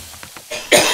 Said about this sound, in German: Nicht so laut husten.